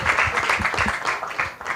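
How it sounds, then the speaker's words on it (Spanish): An audience at an event applauds in a brief burst of close, fairly loud clapping with distinct hand strikes that stays lively throughout. "Claro que sí, aplaudamos primero."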